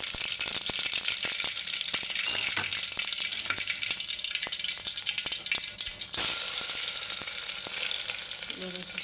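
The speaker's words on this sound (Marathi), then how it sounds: "आता जिरे मोहरे टाकून घेणार आहे आणि वाटलेला लसूण" Cumin, mustard seeds and crushed garlic frying in hot oil, a loud steady sizzle with crackling pops and seeds rattling in the pan, close up and continuous.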